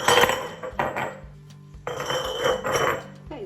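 Glass canning jars clink and knock together as they are handled and set out in a home kitchen, several close, bright clatters separated by short pauses, with no talking.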